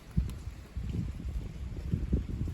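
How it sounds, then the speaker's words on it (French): Gusty wind returning after a hail shower, low buffeting rumbles against the microphone in uneven bursts, moderately loud and close. "Le vent revient."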